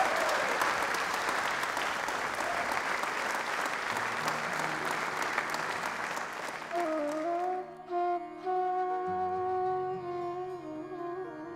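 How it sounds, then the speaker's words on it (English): A live audience at a magic show claps in loud, sustained applause that fades out after about seven seconds as music takes over. "I want you to give them a wonderful round of applause"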